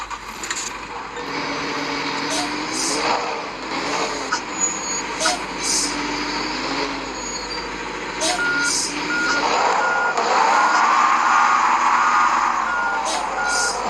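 A newly acquired truck starts up and a sharp reversing alarm beeps at a regular pace over a low engine hum, with voices talking in the background.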